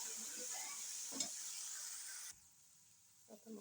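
Masala and curry leaves hit hot oil while okra is being cooked, giving a soft sizzle with a few stirring clatters before it cuts to near quiet and a brief clink, all faint.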